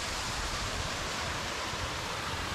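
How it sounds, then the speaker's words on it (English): A small waterfall in the Rhinog mountains of Snowdonia rushes in a steady, broadband hiss, close and constant with no pauses or voices. "Lovely little waterfall there."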